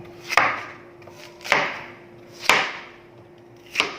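Snake meat being chopped into cubes on a board: four sharp knife strikes with short ringing decays, spaced about a second apart, up close, without talk.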